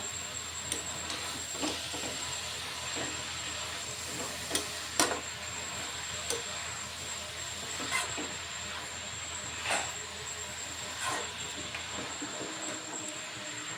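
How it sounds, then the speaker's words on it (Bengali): Finely grated papaya is stirred in a kadai over heat with no water added, a constant soft sizzle and hiss overlaid by regular spatula scrapes roughly every second or so, near and moderately quiet. "ভালো করে নেড়ে চেড়ে"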